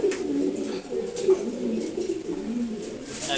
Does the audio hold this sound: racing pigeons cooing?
yes